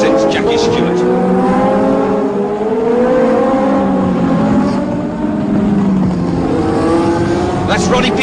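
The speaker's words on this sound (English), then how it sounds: "The vital race for James Hunt" Formula 1 race cars at the 1976 Japanese Grand Prix roar steadily throughout, engine notes rising and falling as they pass, with a commentator talking over the loud, continuous track noise.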